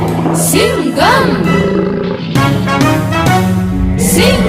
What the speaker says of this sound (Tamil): இதுதான் சிங்கம்னு சொல்லுவாங்க சிட்டி.